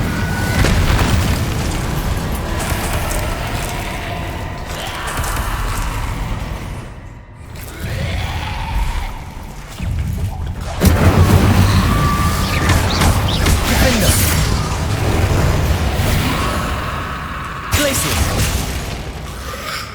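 Fiery spell blasts from the Incendio fire charm in the video game Hogwarts Legacy, heard as loud booming bursts and crackling whooshes over a dense battle soundscape, with a brief dip near the middle before the blasts resume.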